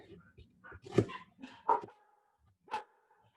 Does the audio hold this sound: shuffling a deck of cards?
no